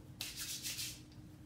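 Hands rub oil into the scalp and hair with a soft, close, continuous swishing friction that lasts about a second, with no talk.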